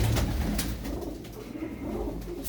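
Pigeons in a loft coo softly and repeatedly, low rolling calls close by, with some rustling and shuffling around them and no talk.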